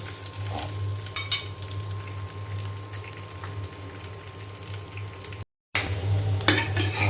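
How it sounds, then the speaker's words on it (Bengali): Hot oil hisses and spatters continuously in a pan, with sharp pops now and then and a brief cutout near the end. "আর কি ফোটা ফুটছে, একদম ছিটকায়ে গায়ে এসে পড়ছে, কি হারে ছিটকাচ্ছে।"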